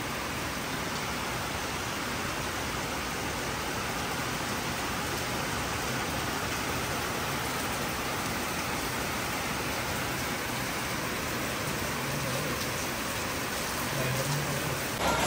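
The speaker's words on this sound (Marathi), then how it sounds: "खूप पाऊस पडते आणि तो पत्र्यांवरती पडतोय" Heavy rain drums steadily on metal roof sheets, a dense, even roar that fills the whole stretch without letting up, with no voices over it.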